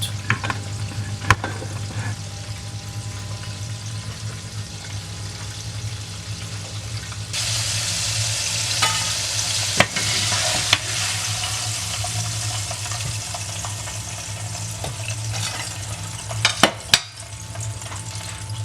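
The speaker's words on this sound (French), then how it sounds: "vous allez déposer vos crevettes dans l'huile et les laisser cuire à peu près 3 à 4 minutes." Shrimp frying in oil in a pot, a steady dense sizzle with occasional stirring clatter, growing louder and brighter partway through and continuing without speech.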